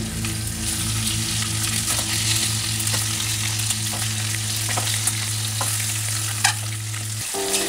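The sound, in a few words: eggs frying in a pan for egg curry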